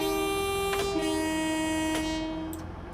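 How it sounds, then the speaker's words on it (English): A Class 185 diesel unit in Train Simulator 2022 sounds its two-tone horn, one sustained blast that shifts pitch partway through and then trails off as the track noise fades. "Yes, I can get the horn on for you."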